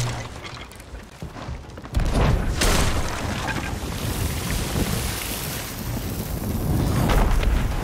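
A sudden deep boom of a TNT explosion in the video game Sea of Thieves bursts in, followed by a long rumbling roar and rushing noise that lingers.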